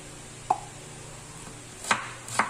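Knife slicing onion on a cutting board while preparing tilapia paksiw with tomatoes, three distinct sharp chops spaced apart, close and clear against a quiet kitchen background.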